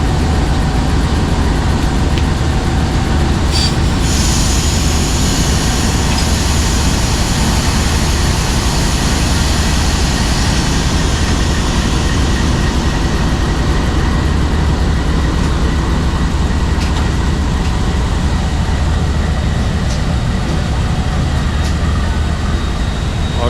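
The Sir Syed Express runs on the rails in Pakistan, hauled by an EMD AGMU30 locomotive. A loud, steady rumble and rolling drone carry on without a break, with a brief higher rattle near the start.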